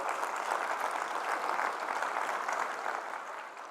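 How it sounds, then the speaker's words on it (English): A crowd applauds steadily and loudly after a presenter's call at a fleet-management talk, the dense clapping sustained throughout and easing slightly toward the end, with no voices over it. "Give them a round of applause for how awesome that is."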